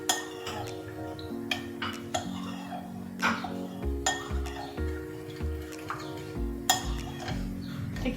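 A spoon clinks against a bowl while sugar and yeast are stirred together. The taps and scrapes come in an irregular rhythm, close by, over a steady low hum.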